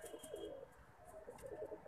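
A purebred pigeon with a glossy neck coos softly in a few low, rolling phrases, faint and close, with no talk over it.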